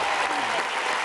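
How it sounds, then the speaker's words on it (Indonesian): A game show studio audience bursts into brief, dense applause for a contestant, a short wash of clapping with no voices on top. "Tepuk tangan untuk Adit"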